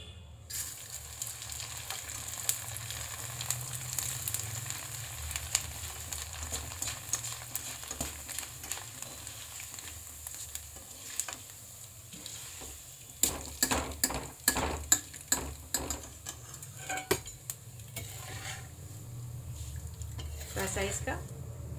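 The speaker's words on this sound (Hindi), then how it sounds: "अब चलिए इसमें हम चूड़ा ऐड करती हूँ, डालती हूँ।" Flattened rice (chura) fries in oil for aloo bhujia, with a soft continuous sizzle and bursts of clinking and scraping utensils against the pan, quiet and close.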